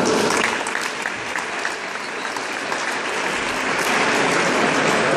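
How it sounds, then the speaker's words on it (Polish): Audience applauding at the opening ceremony of a national women's and men's volleyball tournament, a dense, steady wash of many hands clapping throughout, loud and sustained with faint voices beneath. "Wielkie brawa."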